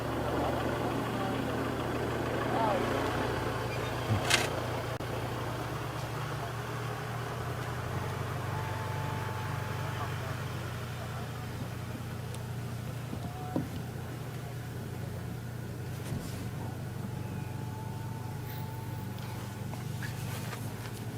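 A safari vehicle engine on a sunset game drive in African bush rumbles as a faint, low, steady hum throughout, with small knocks and scuffs now and then.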